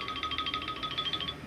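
An NEC business telephone rings with a steady electronic warble, pulsing in quick even bursts at moderate loudness, close by and with no talk over it.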